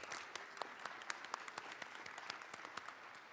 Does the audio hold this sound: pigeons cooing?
no